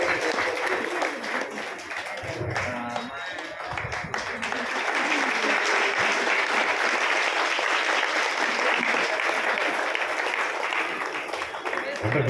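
A large audience at a Telugu gathering breaks into sustained applause that swells and holds steady, dense and loud, with a few voices heard early on.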